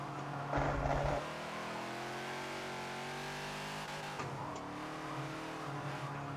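A Ford Falcon XB race car in the Forza video game at Silverstone GP: a fairly quiet engine drone climbs and falls through the revs, with a brief burst of louder noise early on, heard alone.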